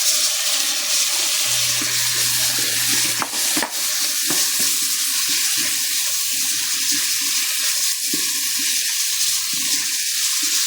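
Garlic, onion and mushrooms frying in oil in a wok, a steady close sizzle with scraping and stirring clatter throughout and a brief metallic knock partway through.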